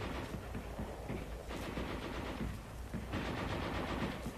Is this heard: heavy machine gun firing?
yes